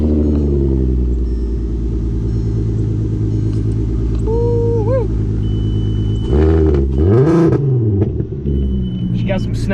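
An old Volkswagen race car engine idles with a steady low rumble, then revs up in a couple of rising bursts, loud and close throughout.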